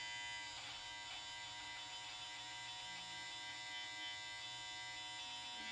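An electric shaver buzzes steadily and close up while shaving off a full beard, its motor hum continuous with slight shifts in pitch as it moves over the whiskers, and no one speaks.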